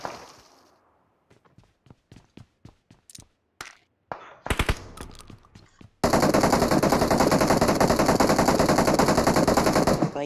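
Gunfire in a gunfight in the mobile video game BGMI: a run of separate sharp single shots with short gaps, then a sudden dense, sustained burst of rapid automatic fire that stays loud to the end.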